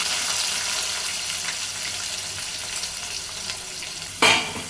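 Onions, slit green chillies and curry leaves fry in hot oil as a steady, close sizzle, with a brief louder crackling burst near the end.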